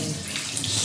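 Water rushes steadily from soaked chickpeas being strained, a brief continuous splashing pour, close and fairly loud.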